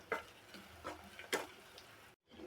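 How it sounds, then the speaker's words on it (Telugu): Spoon stirring ginger paste and turmeric into a ridge gourd curry in a pan, giving a few soft scraping strokes and light sizzle before a brief silent gap. "మళ్ళీ ఒకసారి కలుపుకుందాము."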